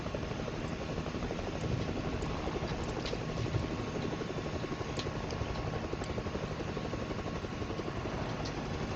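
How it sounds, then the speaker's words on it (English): Helicopter in a video game settling onto a helipad: a steady, dense rotor and engine drone runs unbroken throughout at constant loudness, with no talk over it. "I land on the helicopter pad"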